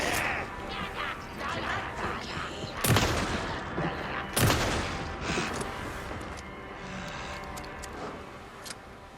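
Gunfire aimed at an enemy old granny in the video game Alan Wake 2, two loud, sharp gun blasts about a second and a half apart over a dense rumbling game mix, followed by lingering noisy ambience.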